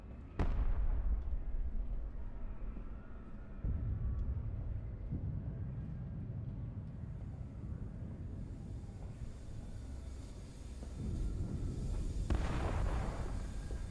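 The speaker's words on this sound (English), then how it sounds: "The explosions, man, sounds so damn good" Explosions in the video game Amnesia: A Machine for Pigs: a sharp blast followed by deep rumbling booms and a second heavy rumble near the end, loud and reverberant with no talk.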